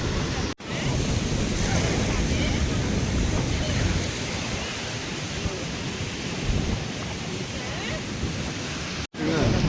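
River floodwater at Iranamadu bursts through a broken second-step weir built to slow its flow, a loud, steady, close-up roar of rushing water that continues without pause.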